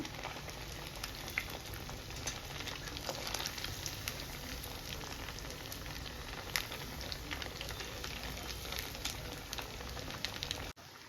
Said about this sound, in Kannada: ಈಗ ನೋಡಿ ಚೆನ್ನಾಗಿ ಫ್ರೈ ಆಗಿದೆ.